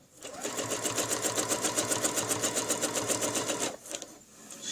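A sewing machine runs a steady, rapid stitching rhythm along a scroll line, close and continuous for several seconds before stopping abruptly near the end.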